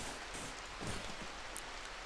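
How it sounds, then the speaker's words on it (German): Steady rain falling in the video game RimWorld, a soft, even hiss of drops that holds at a constant level throughout with no voices. "jetzt ist zwar der Regen da"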